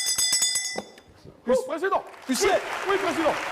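A bailiff rings a small bell, with a rapid series of bright rings at the start, followed by voices calling back and forth in a courtroom-style comedy sketch.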